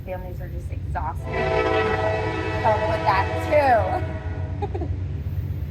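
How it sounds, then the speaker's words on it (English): A train rumbles past as its horn blares in long, loud blasts, nearly drowning out a person speaking underneath. "Sorry about the train."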